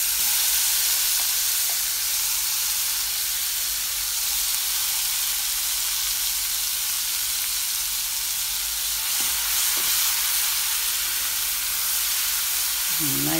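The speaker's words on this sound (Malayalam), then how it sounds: "ഇനി അതിലേക്ക് നമ്മൾ ഈ അരച്ച് വെച്ചിരുന്ന മസാല ഒന്ന് മൂപ്പിച്ചെടുക്കാം." Ground masala paste for a chicken curry fries in oil with a steady, close sizzle and hiss that holds for a long stretch, with a faint stir or clink now and then.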